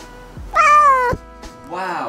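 A cat meows loudly twice, a long drawn-out cry followed by a shorter one, close to the microphone.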